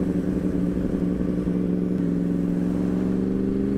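Steady engine drone of a Yamaha R1 motorcycle cruising on a highway at night, a continuous loud hum with a slowly rising pitch toward the end.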